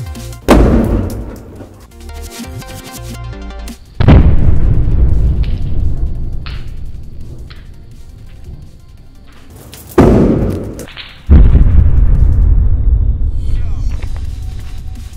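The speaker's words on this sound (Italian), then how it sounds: "Adesso facciamo un po' di fuochi d'artificio con i palloncini ad idrogeno." Hydrogen-filled balloons burst like fireworks, giving loud, deep booms with rumbling tails. Two main blasts come about six seconds apart, each followed by a long fading roar.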